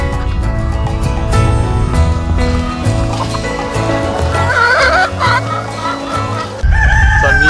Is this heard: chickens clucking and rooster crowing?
yes